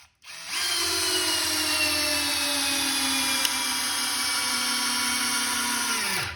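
A Metabo Powermaxx 12V drill/driver countersinking a screw gives one continuous close whine that starts abruptly and slowly drops in pitch as it bears down, then cuts off.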